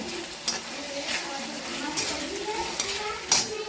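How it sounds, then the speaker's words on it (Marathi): Oil sizzles steadily while onion is stirred in a pan with tomatoes and peas, with periodic scraping strokes and a voice murmuring in the background. "कांदा परतून घ्यायचा आहे चांगला"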